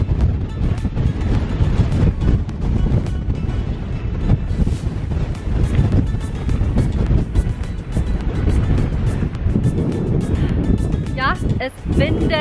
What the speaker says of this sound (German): Ja, es windet.